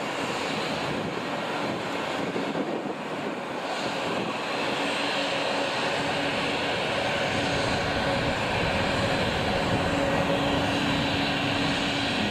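A tanker aircraft with its refueling boom extended glides past on a left turn near Boeing Field, a steady broad engine roar mixed with wind buffeting that holds fairly constant and moderately loud throughout.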